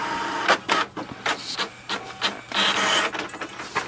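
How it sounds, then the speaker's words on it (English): An HP Envy Pro 6422 inkjet printer running a print job, with rhythmic mechanical whirs, clicks and short carriage bursts repeating in quick succession, close and alone. "it will send the command for the printing."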